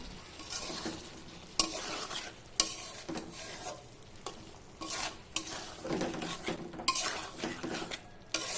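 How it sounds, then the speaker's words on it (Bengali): Chicken chaap in a light gravy stirred in a pan, a spoon scraping and knocking against the metal in irregular strokes over a soft simmering sizzle, close and fairly quiet. "এভাবেই নেড়ে চেড়ে কিছুক্ষণ রান্না করব"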